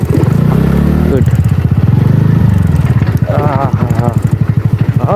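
A motorcycle rides off-road on a trail toward Kadamagondi Falls, its engine throbbing close and loud with pulsing, uneven revs, while someone talks over it.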